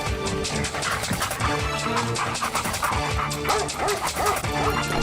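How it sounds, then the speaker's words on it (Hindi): A dog barks and yips repeatedly in quick bursts, loud and close, with whimpering mixed in over a busy, dense background. "तब उसके पीछे एक कुत्ता पड़ गया"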